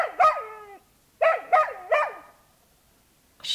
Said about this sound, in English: He was suddenly awakened by Buster barking loudly